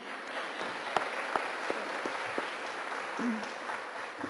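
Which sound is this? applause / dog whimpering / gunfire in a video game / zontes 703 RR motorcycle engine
applause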